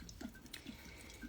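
Liquid trickles and drips into a container during an outdoor full-moon herbal preparation, soft and close, with faint gurgles over a low steady background.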